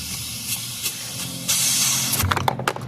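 Pressure hisses out of the coolant degas bottle on a 6.0 Powerstroke diesel with a failed EGR cooler, a loud, close rush of escaping air and steam that starts abruptly and holds before sputtering.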